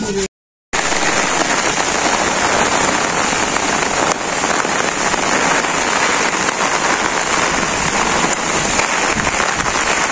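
Heavy rain pouring down in a village, a loud, dense, steady patter on surfaces close by, after a brief silent gap at the very start.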